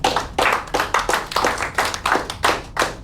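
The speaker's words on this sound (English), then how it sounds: "Big round of applause for him." Hands clap in a steady rhythmic beat, about three claps per second, close and fairly loud, sounding more like one or a few people than a crowd.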